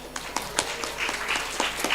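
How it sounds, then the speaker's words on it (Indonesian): Applause for a school supervisor at an Indonesian madrasah event, a modest crowd clapping in uneven bursts with a few sharper individual claps standing out, moderately loud in a reverberant room. "Tepuk tangan buat Pak Imron."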